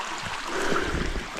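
Creek water flowing steadily beside a campsite in the South Mountains, a continuous close broadband rush with a slightly stronger low churn in the second half, no voices.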